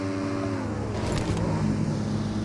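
Motorbike engine in PUBG Mobile, a steady close drone that shifts pitch as the throttle changes, with a brief rough burst midway.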